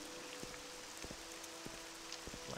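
Rain falling on water in a video game, a dense steady hiss with scattered louder droplet taps, continuous and fairly close, no voices.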